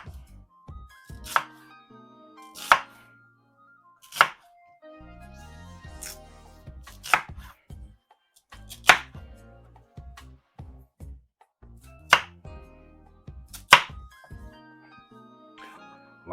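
A knife slices through sweet potatoes on a cutting board in crisp, evenly spaced chops, about nine sharp strikes close up, with quiet pauses between them.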